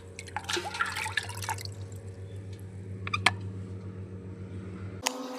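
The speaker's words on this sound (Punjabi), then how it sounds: "ਹੁਣ ਬ੍ਰਸ਼ ਵਗੈਰਾ ਨੂੰ ਆਪਾਂ ਥੋੜਾ ਸਾਹਮਣੇ ਧੋ ਕੇ ਦੱਸ ਦਿੰਦੇ" A brush is rinsed in water, with quick splashing and dripping at the start. A faint trickle and a steady low hum continue after it, ending in a sharp knock.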